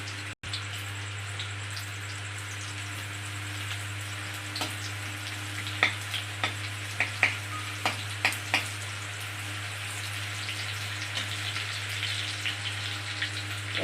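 Whole garam masala and mace fry in hot oil as a faint, steady sizzle under a low mechanical hum, punctuated by a handful of sharp pops and clicks midway.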